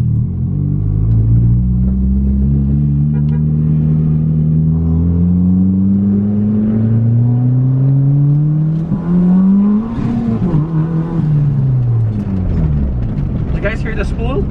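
A boosted Honda Civic with a B18C engine revs up and down through gears, its engine tone climbing and falling in long sweeps, with a faint turbo whine and flutter in the upper range as it pulls.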